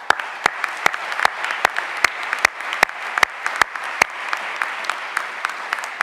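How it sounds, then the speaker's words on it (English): A crowd at a university opening convocation claps for incoming freshmen, steady applause with sharp individual claps standing out near the microphone throughout. "how about another round of applause for these freshmen?"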